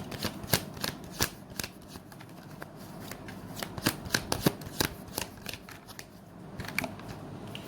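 Tarot cards are shuffled close by in a quiet room, giving a steady run of crisp riffling snaps and slaps with no talking.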